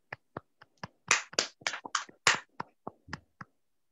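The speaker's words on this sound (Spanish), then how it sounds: "Pido también un fuerte aplauso para Eladio." Sparse, scattered claps from a small audience at a Spanish book fair flamenco tribute, a few sharp isolated hits and short bursts, quiet and somewhat distant with silence between.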